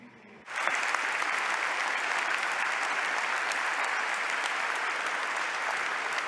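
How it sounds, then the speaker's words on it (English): After a quiet moment, an audience at a business event bursts into applause for four guests, and the clapping stays loud and sustained to the end. "So, well, a big round of applause for our four guests."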